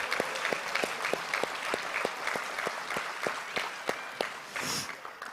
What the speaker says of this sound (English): give a round of applause to our freshman football players.